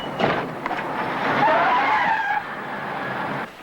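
A car pulled into a parking spot at speed, its tires squealing and skidding for a few seconds at close range, the screech holding steady before cutting off abruptly.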